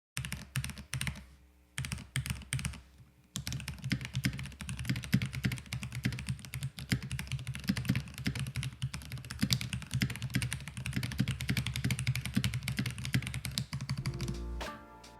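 Steady, close typing on a hot-swappable mechanical keyboard fitted with Mac-legend keycaps, dense clacking keystrokes running almost continuously with a couple of brief pauses near the start, no voices.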